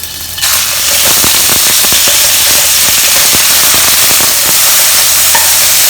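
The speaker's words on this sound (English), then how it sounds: "I'm going to add in and fry 100 grams of pork loin, which I've cut into strips like this." Strips of pork loin fry in hot oil in a pan with a loud, steady sizzle that bursts in right at the start and keeps crackling with small pops throughout.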